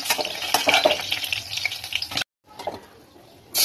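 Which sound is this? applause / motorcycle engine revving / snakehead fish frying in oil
snakehead fish frying in oil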